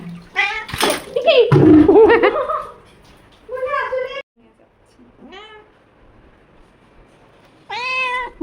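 A local desi cat meows repeatedly while being bathed with warm water, running water splashing in bursts as people talk to it.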